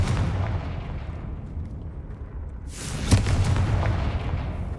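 A Confringo fire spell from Hogwarts Legacy bursts partway through, a sharp booming explosion with a crackling tail rising out of a quieter rumbling game background.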